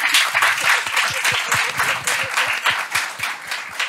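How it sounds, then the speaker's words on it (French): An audience applauds a newly graduated doctor of cognitive psychology at a lecture, a steady burst of many hands clapping with a rhythmic pulse, close and continuous, with no voices over it. "ça va mériter un applaudissement"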